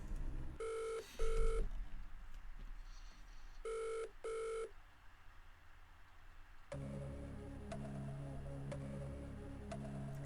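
Phone-a-friend lifeline in a millionaire quiz game: a telephone rings in two double bursts, then a stretch of quieter tones leads into a rhythmic dialing and connection sequence with ticking and layered electronic music, no speech.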